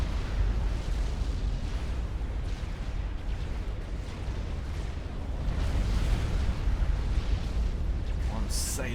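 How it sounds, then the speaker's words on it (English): Explosions rumble through a large Supreme Commander real-time strategy battle, a dense, continuous wash of booms and blasts with no clear gaps, loud and sustained, and a voice talking over it. "hearing things that sound like nuclear explosions"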